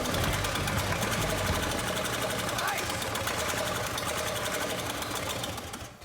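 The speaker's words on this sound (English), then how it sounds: "the original engine comes back to life." The original engine of a restored 1963 car running steadily with a fast, even mechanical clatter and rapid ticking, loud and close throughout before easing off at the end.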